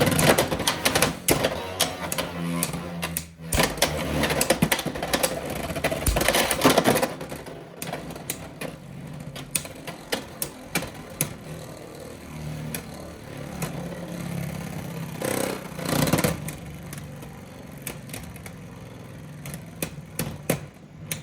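Beyblade X tops launched into a stadium, clattering and colliding with sharp rapid clicks and hits, then spinning on in a softer rattling whir with a few later knocks, close and fairly quiet.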